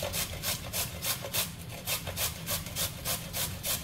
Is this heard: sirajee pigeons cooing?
no